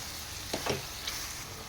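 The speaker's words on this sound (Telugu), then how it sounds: "బీరకాయ ముక్కల్ని వేసేసుకోవాలి వేసేసి బాగా ఫ్రై చేయాలి" Ridge gourd pieces frying in a pan, a steady soft sizzle with a few scraping stirs of a spoon against the pan, close and fairly quiet.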